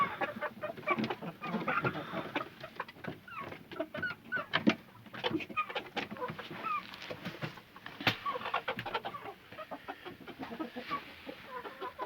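Chickens cluck and squawk continuously around the listener in a coop, a busy, close flock with overlapping calls and scratchy rustling throughout.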